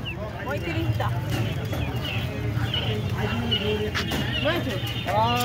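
Black Kadaknath chickens and other poultry cluck faintly amid the steady hubbub of a busy live-bird market, with people talking close by throughout.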